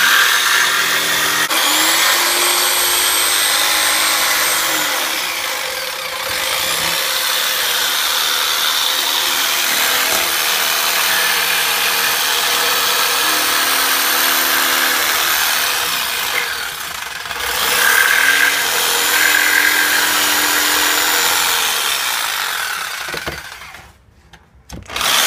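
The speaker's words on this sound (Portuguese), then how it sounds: "é aquele de sempre, cortando MDF" A power saw cuts MDF board for a doll's bed, producing a loud, sustained whine close by that runs steadily, dips briefly twice in pitch as the blade bites, then winds down at the end.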